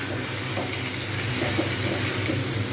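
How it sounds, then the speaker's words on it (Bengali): Chicken marinated for two hours being stirred and fried in a pan for a spicy chicken curry, giving a steady, dense sizzle that holds at an even level throughout. "এগুলো একটু নাড়বো, এবারে নেড়ে"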